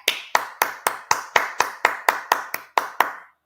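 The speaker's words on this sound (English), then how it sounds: "Hand clap." Twelve single hand claps, sharp and evenly spaced at about three per second, close and fairly loud, each with a short decay into silence, with no talk over them.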